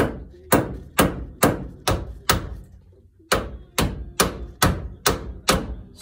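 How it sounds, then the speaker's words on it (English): A hammer strikes a ball joint on a 1966 Plymouth Barracuda, eleven sharp metallic blows in a steady rhythm with a brief pause midway, close and loud, each hit ringing out before the next. "I can't just wildly swing a hammer down there"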